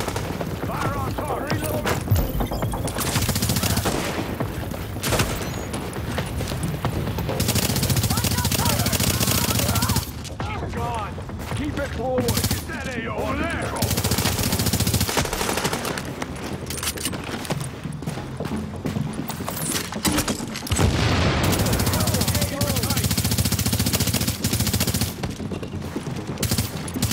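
Dense bursts of automatic gunfire and booms fill a shooter video game battle, rattling almost continuously with brief lulls, while a synthetic voice announces alerts over the fighting.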